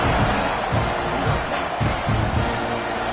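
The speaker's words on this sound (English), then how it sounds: "this crowd is buzzing after that last score" Stadium crowd in the College Football 26 video game after a score, a dense continuous roar of cheering and murmuring that stays loud and even throughout.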